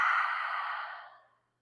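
A single long, deep exhale out through the mouth during a yoga session, a soft close breathy rush that starts strong and fades away over about a second and a half, followed by silence.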